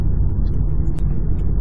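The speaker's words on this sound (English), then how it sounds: "I get quite a bit of road noise, but this is a very beat up street." Steady low rumble of road noise inside a 2017 Hyundai Ioniq Electric driving over a badly beat-up street, a continuous droning hum with no voices.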